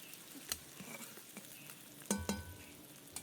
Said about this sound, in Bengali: এখন আমি ভালো করে নেড়ে নিচ্ছি।